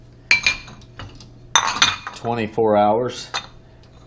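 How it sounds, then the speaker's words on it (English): Dishes and cutlery clink and clatter in a few sharp bursts as grimy, dried-on plates are loaded into a dishwasher's racks, fairly close, with a person talking between and over the sounds. "My dishwasher loaded up here with dishes."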